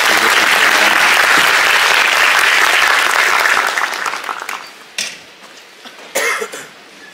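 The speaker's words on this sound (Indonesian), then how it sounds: "Kita beri tepuk tangan untuk Pak Dubes." Hearty audience applause for an ambassador at a talk given abroad in Jordan, dense and loud for about four seconds, then tapering into a few scattered claps and a cough or two.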